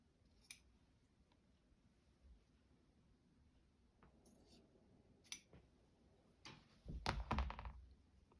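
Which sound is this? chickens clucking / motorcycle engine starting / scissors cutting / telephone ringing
scissors cutting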